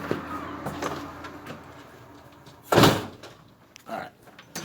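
A door bangs once, loud and close, in the middle of a room with faint background noise, and people talk around it.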